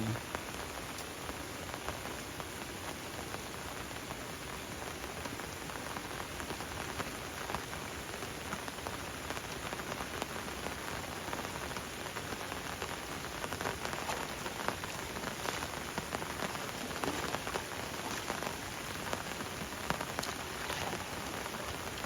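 Steady rain falling at a riverbank during a fishing outing, a dense continuous patter of drops on surfaces, close and even throughout with no voices.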